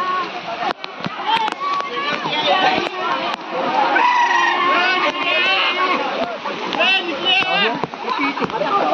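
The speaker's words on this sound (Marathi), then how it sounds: "इथून वरून जो पाणी पडते खाली इथूनच तो खाली पाणी पडत असते." Water crashes and splashes steadily at Muktai Waterfall, a loud, continuous broadband roar with a lively crowd of people talking, shouting and laughing close by throughout.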